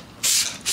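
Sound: spray bottle spraying a garden plant

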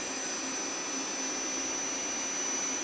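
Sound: Nakamura Slant 1 spindle spinning up in reverse

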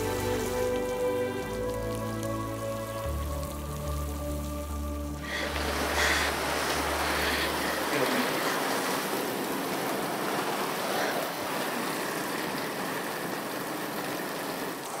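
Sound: rain falling

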